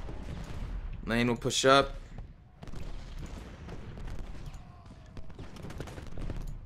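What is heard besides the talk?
musket volley fire in Ultimate General: Gettysburg video game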